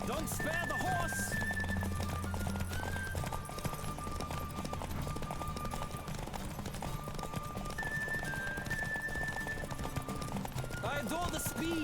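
Galloping horse hooves in a horse race in the video game The Witcher 3, a steady rapid clip-clop under game music and rushing sound, with occasional whinnies and brief spoken lines.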